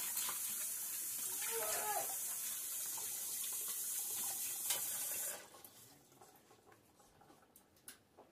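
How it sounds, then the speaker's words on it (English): Water runs steadily from a tap into a sink as hands are washed in a home kitchen, preparing for meat canning. A broad, constant rush lasts about five seconds, then cuts off, leaving faint drips and small handling noises. "now let's wash our hands so we can wash the jars"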